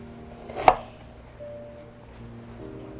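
A kitchen knife makes one crisp chop through a seeded, trimmed bitter melon on a cutting board while it is cut into 1.5 cm strips. The chop lands alone against a quiet room.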